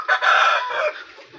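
A young laying hen gives a loud, close cluck-like call lasting about a second, alone without talk.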